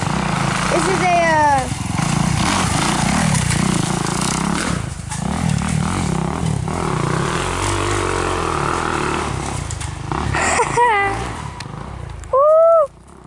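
Four-stroke dirt bikes racing at a Croom event, engines buzzing and revving at a distance with rising and falling pitch as riders pass, under steady crowd chatter and nearby voices.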